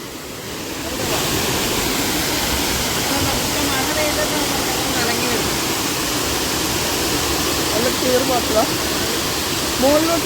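Water pours down the spillway at Malankara Dam in a loud, unbroken roar of rushing white noise that starts abruptly and holds steady and close, with faint voices now and then.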